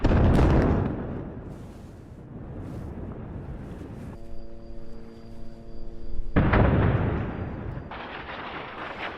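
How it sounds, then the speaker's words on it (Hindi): Israeli airstrikes hit Beirut, heard as heavy booming explosions with rumbling tails, a large blast at the start and more later, with a steady tone breaking in partway through. "धमाकों की आवाज से पूरा बेरूत दहल उठा"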